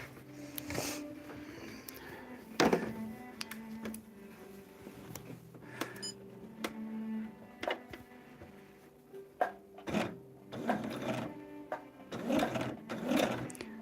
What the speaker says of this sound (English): All right, let's sew it.